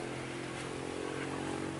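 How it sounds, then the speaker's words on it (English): A motorcycle ridden up and down a nearby road, its engine a steady drone with tonal hum throughout, at moderate distance and fairly quiet. "Somebody bought a new motorcycle, that one, and they just ride up and down the road."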